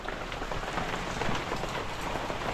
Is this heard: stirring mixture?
no